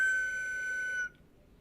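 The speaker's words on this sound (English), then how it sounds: "But it's these guys that are the whistles" A steady, piercing whistle tone sounds for about a second and then cuts off abruptly. It is loud and close, with no voices.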